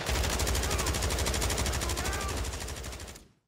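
Automatic gunfire in Call of Duty: Warzone: a rapid, evenly spaced burst of loud shots, sustained for about three seconds before cutting off abruptly, close and dominant.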